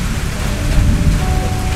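Steady storm rain during a typhoon, a broad, constant hiss with a deep low rumble that stays dense and fairly loud throughout, with no talk over it.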